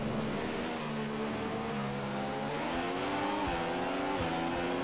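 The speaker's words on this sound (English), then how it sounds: "Yes, got a tyre squeal from that." Formula One car in the video game F1 2015, its engine revving and shifting in rising harmonic sweeps with a brief tyre squeal, close and continuous, no voices.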